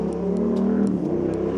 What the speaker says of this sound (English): There's a noisy motorbike comes up behind us.